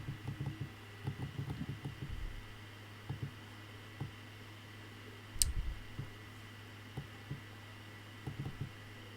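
Sharp, sparse computer mouse clicks while working in graphic design software, coming singly and in small pairs at close range over a quiet room hum, with one brief louder knock partway through.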